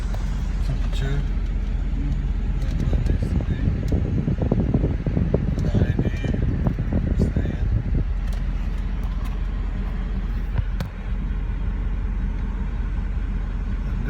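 A car engine idles roughly and high at close range, a steady low rumble with uneven surging and some fan noise. Talk runs over it at times.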